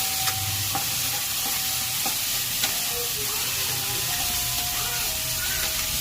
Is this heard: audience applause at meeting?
no